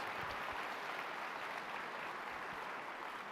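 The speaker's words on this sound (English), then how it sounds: "let's have a round of applause for all of those veterans" A conference audience gives steady, sustained applause for veterans at a main-stage presentation, a dense even wash of clapping filling the hall throughout with no voices over it.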